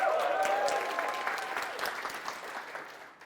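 Audience applause at a storytelling talk, a broad wash of many hands clapping that starts loud and slowly tapers off over a few seconds, with no speech over it.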